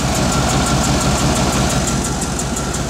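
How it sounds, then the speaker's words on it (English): A 1994 Chevy truck with a 350 V8 and brand-new headers idles close by, a loud, steady, throaty exhaust rumble with an even pulsing beat and no voices. "It's an exhaust."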